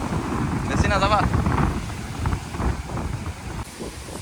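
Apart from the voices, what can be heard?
strong wind blowing at the seaside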